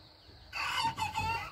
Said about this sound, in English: Come on, get a crow, Butta.